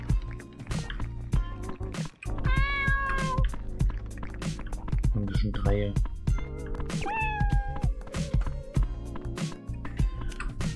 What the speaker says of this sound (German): Oh, süß, Katzenbaby.